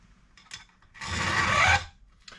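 Chainsaw fitted with an Oregon EXL saw chain cuts through wood, a loud raspy burst of about a second that swells and then drops away, framed by quieter handling noises before and after.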